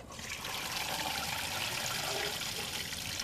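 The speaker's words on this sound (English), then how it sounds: "first thing we're going to do, we got to strain it." Cooked macaroni is strained, and a steady stream of water pours and splashes through the strainer. The wash of sound stays even and continuous throughout, with no talk.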